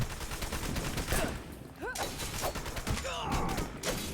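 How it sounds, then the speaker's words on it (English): Pistol shots in the action game Wanted: Dead: a few sharp gunfire cracks ring out amid busy combat effects and thuds, loud and close throughout. "shoot him a couple times with my pistol to kind of stun him"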